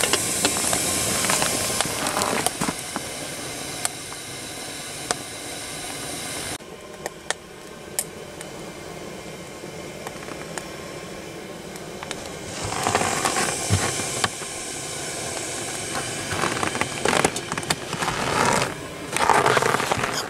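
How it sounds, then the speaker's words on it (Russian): A kettle in a remote Yakutian forest at minus 30 degrees hisses loudly and steadily, the broad steam rush easing briefly midway before surging again, with scattered small pops and crackles. "Чайник защипел."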